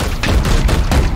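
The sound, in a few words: gunfire in video game Warhammer 40,000: Chaos Gate - Daemonhunters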